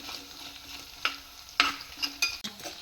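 Spoon stirring chillies frying in a pan for beetroot chutney, a quiet sizzle underneath with several distinct scraping and clinking strokes against the pan.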